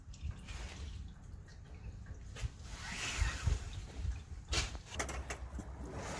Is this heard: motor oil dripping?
yes